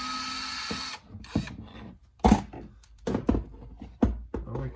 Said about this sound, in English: We'll drill out this tamper-proof pellet and then pick it out with a pick.